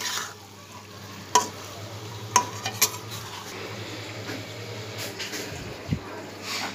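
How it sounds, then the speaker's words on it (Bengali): Shrimp and leafy greens fry softly in a pan under a low sizzle, with several sharp clinks of a utensil scraping and stirring against the metal. "এই এর মধ্যে চিংড়ি মাছগুলো দিয়ে দিয়েছি, আর শাকটা হয়ে গেছে"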